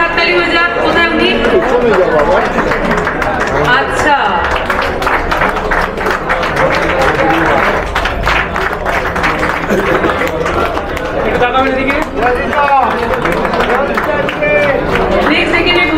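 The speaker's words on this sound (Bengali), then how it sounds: "জোরে হাততালি হয়ে যাক।" An audience gives sustained, loud applause at a gathering, with dense clapping and crowd chatter throughout, and a voice speaks briefly over the noise.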